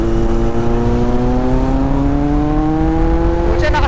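A Kawasaki Z900 motorcycle in sports mode revs hard and climbs steadily in pitch, its engine tone loud and close and rising without a break for a few seconds.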